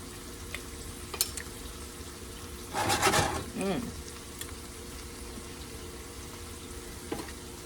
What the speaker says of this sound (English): I'm gonna go ahead and stir this again